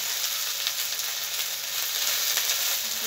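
Okra fries in a pan with salt and turmeric, giving a loud, continuous close-up sizzle that stays dense and even from start to finish with no talking.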